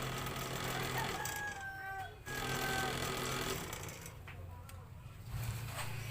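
A noisy rear aircon blower in a Hyundai Starex or Mitsubishi L300 van, running as a steady whirring drone with a mechanical buzz and faint rattles, with people talking over it.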